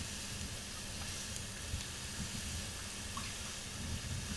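Water sizzling and hissing on a heated steel axle being shortened, a steady broadband hiss close by with a low rumble underneath and no talk.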